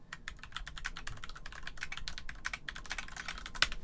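Rapid typing on a computer keyboard, a dense stream of crisp clicking keystrokes at close range with one sharper key hit near the end, no talk.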